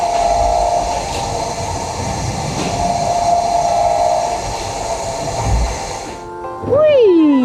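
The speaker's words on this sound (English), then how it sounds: "Listen to the whirring sound the crankshaft makes as it goes round and round." A carousel crankshaft turns up in the canopy with a steady mechanical whirring and rumbling rhythm. A voice briefly exclaims near the end.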